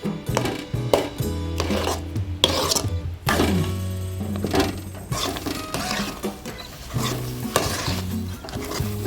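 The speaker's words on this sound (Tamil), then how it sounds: "இன்னொரு 5 நிமிஷம் கிளறிக்கலாம்." Cornflour halwa stirred with ghee in a nonstick pan: steady scraping and rubbing strokes of a spatula over a thick sizzling mass, close and loud, repeating in an uneven rhythm with no talk.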